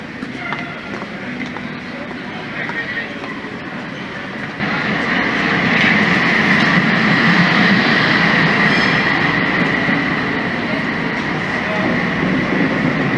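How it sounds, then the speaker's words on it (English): A tram rolls along a busy main street in Amsterdam, its steady rumble and wheel noise on the rails swelling louder midway and holding as it passes close by. "Trams here just run in the middle of the road"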